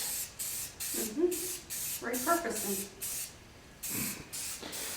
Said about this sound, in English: She's spray painting tin cans.